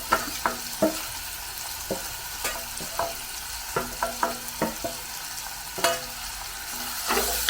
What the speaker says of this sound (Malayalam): ഇതൊന്നിച്ചൊന്ന് ഇളക്കി യോജിപ്പിച്ചെടുക്കാം.